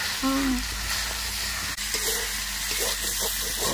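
Chicken meat frying in oil in a pan gives a steady close sizzle, with a brief tonal clatter near the start and scattered stirring sounds throughout.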